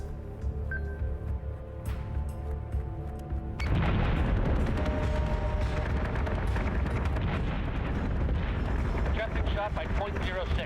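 Flak field explosions in the Battlestar Galactica: Deadlock space combat game, a sudden dense roar of booming bursts that breaks in after a quieter stretch and keeps rumbling steadily to the end.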